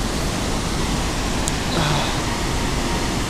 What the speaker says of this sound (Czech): Tamhle ten vodopád dole.